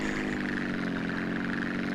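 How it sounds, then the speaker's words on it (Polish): A helicopter in the video game GTA San Andreas drones with a steady, continuous rotor and engine hum, loud and unbroken throughout, with no voices over it. "Na dole jest helikopter!"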